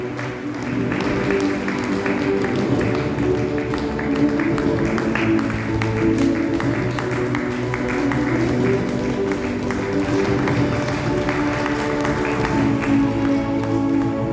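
An audience at an anti-alcohol and anti-drug committee anniversary event at St. Thomas Cathedral, Irinjalakuda, claps for a girl coming onto the stage. The applause is steady and sustained, a dense even patter with no break.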